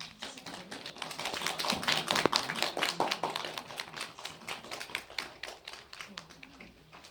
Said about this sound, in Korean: 큰 박수로 환영 부탁드릴게요